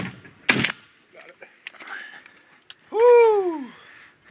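Shotguns fire during a goose hunt, a sharp loud blast near the start followed by a few smaller pops, with calls and voices outdoors and a loud honk-like call near the end.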